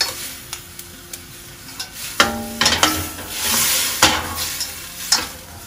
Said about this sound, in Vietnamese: Mình xào sơ cái bạch tuộc này thôi rồi mình đổ ra một cái thố